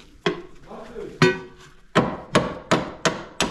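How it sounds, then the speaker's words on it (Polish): Hammer and chisel strike repeatedly during cleanup work at an open-air museum, giving six sharp, loud metallic knocks at an uneven pace with short ringing decays and no talk. "Młotkiem zawsze, widzicie. Majzel i młot."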